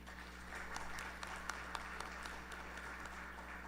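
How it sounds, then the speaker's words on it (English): Quiet audience applause at a Krishna Mandir anniversary service, a soft, even patter of clapping over a steady low electrical hum, with a few sharper claps standing out. "Please give him a round of applause"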